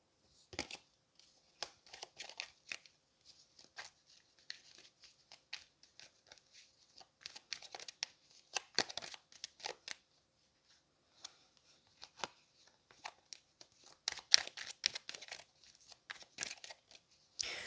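Tarot cards being handled and cut, with faint irregular flicks, taps and soft shuffling rustles spread across the whole stretch.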